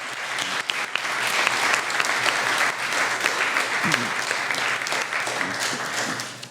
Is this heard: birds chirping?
no